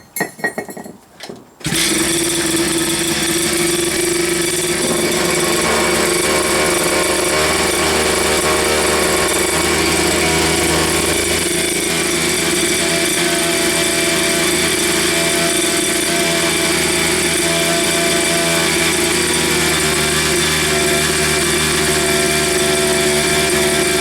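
A found dirt bike engine fires after a few quick cranks, then settles into a loud, continuous running drone that holds steady and close for the rest of the clip.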